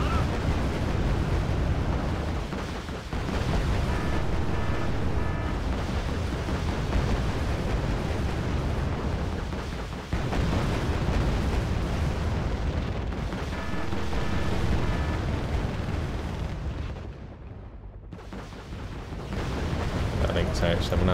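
Rockets fire and burst in the Cold War strategy game Wargame: Red Dragon, a dense, loud barrage of booms and rumbling explosions that continues almost unbroken before briefly dipping near the end, with a voice speaking over it.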